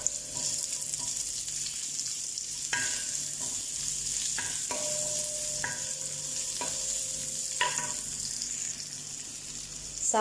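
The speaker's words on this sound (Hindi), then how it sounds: "अब इसमें जाएगा ऑनियन" Onion frying in a pan while hakka noodles are being prepared: a steady, close sizzling hiss runs throughout, broken by several sharp stirring clatters of the utensil against the pan.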